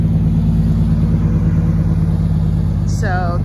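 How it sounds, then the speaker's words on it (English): Trucks roll past near an RV parking spot in a continuous, loud low rumble of engines and tires, with a brief higher whine toward the end. "There's a lot of trucks, as you can hear."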